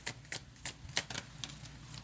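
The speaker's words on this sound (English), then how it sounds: "For some reason, I'm shuffling." Tarot cards shuffle by hand in quick, irregular papery riffles and snaps, close and fairly quiet, with no talking.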